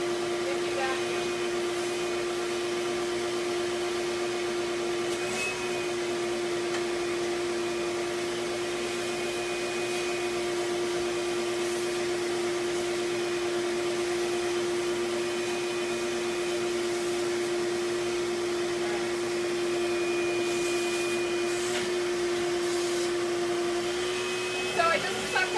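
A shop vacuum cleans ceramic insulation out of a kiln during an element replacement, running as a steady, loud drone with a constant whine for the whole span.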